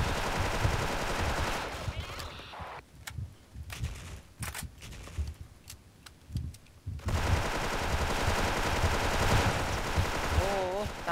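Gunfire in the video game Special Force, with loud automatic bursts at the start and end and scattered single shots between, alongside brief voices.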